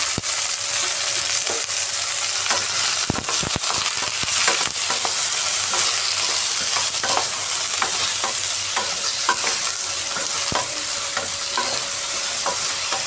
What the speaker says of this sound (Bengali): এইভাবে হালকাভাবে ভেন্ডিটাকে আগে আমি একটু তেলের মধ্যে ভেজে নিই।